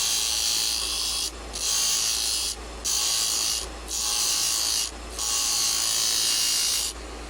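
A wood lathe turns a chess bishop while a scraping tool is held against the spinning wood, producing repeated bright, hissing scrape passes of about a second each, separated by short pauses.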